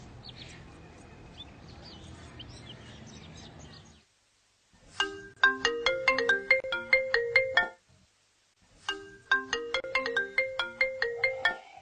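A mobile phone ringtone plays a bright, rapid electronic melody in two bursts separated by a short pause. Faint background sound comes before it within a domestic scene of a Pakistani Urdu drama.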